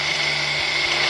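A wood lathe spins a natural-edge cherry bowl that is slightly out of balance, giving a steady, loud whirring hum with a faint rhythmic wobble pulsing underneath, alone without talk.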